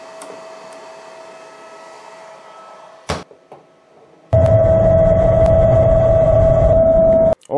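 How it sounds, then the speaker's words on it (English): A HeyGear Reflex 2 resin print curing station runs, starting with a door or lid clunk, then a steady loud motor hum with a high whine that holds for several seconds before cutting off abruptly. "Now we're gonna put it in curing station and check it out."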